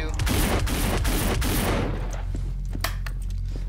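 Gunfire in the zombie video game No Room in Hell, a dense rattling burst of shots in the first half that thins into scattered pops, with game ambience and a low hum underneath.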